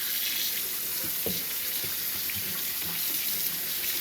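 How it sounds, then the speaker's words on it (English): Tap water runs steadily and splashes over a brined turkey being rinsed in a sink, a constant close hiss with soft splatters as the bird is handled, and one brief spoken word. "get this turkey out of this brining bucket and rinse it off real thoroughly because there's a ton of salt in here"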